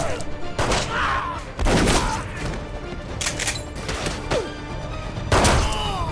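Chaotic gunfire and crashing impacts fill a Jet Li and Jason Statham movie shootout, with dense bursts of shots and loud bangs layered over continuous action noise.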